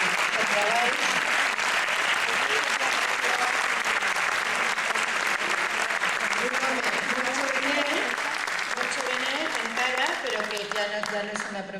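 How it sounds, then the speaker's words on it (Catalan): Audience applause for arranger Javier Garí at a concert by the Coral i Orquestra Unió Musical L'Horta, a dense, steady ovation filling the hall and holding loud throughout before easing slightly at the end. "al que jo li demani un aplaudiment"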